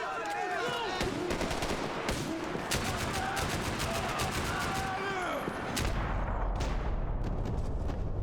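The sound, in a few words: gunfire in Max Payne 3 video game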